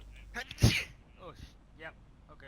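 A single sharp sneeze bursts out near the mic, followed by a few short spoken words.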